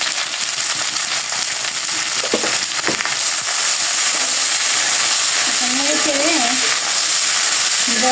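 Ground spices, including chili powder, cumin and turmeric, sizzle and fry steadily in a hot pan with salt, a continuous loud crackle with a few stirring scrapes partway through and no talk.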